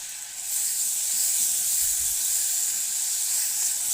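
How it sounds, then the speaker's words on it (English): Tomatoes dropped into a hot pot give a steady, bright sizzle and hiss that swells up after a brief quieter start and holds close and even. "I'm going to be adding my tomatoes"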